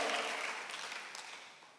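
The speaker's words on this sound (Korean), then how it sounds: "인생의 강이 갈라질 거면 시험 박수 한번 해주세요" Church congregation clapping together during a Sunday worship service, a dense wash of applause that starts loud and gradually fades over a couple of seconds, with no voices on top.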